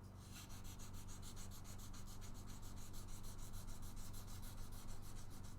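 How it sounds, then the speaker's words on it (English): Guitar frets being sanded: a steady, rhythmic rubbing with even back-and-forth strokes, close but fairly quiet, with no voices. "Now we sand them."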